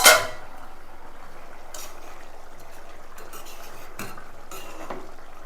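A sharp metallic clank of a lid lifting off a pot of fish curry, followed by quiet simmering and faint kitchen clatter.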